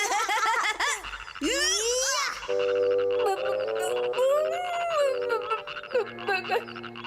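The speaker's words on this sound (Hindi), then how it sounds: "मेंढक किसी को नुकसान भी नहीं पहुँचाते हैं, वो तो बस टर टर करके घूमते रहते हैं।" Cartoon frogs croak in a lively, exaggerated run of calls, rising and falling warbles alternating with steady buzzy tones, loud and close with no talking.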